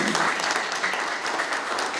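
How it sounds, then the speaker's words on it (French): Warm applause from an audience at a formal launch ceremony as the secretary general is called up, dense steady clapping heard alone at moderate distance. "de chaleureux applaudissements"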